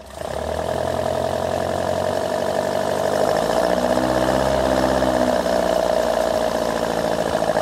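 A Westfield car engine with programmable electronic ignition idles at about 1000 rpm, a steady, loud, close mechanical drone with a low throbbing rumble that holds evenly throughout.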